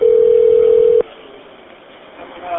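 A steady telephone tone from a recorded phone call rings loud and even for about a second, then cuts off into a faint line hiss.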